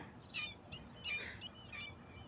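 Bird calls from high up in trees, short chirping notes repeating four times over a faint outdoor background, fairly distant.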